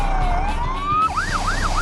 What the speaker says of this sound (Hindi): सायरन की आवाज सन्नाटे को चीर रही है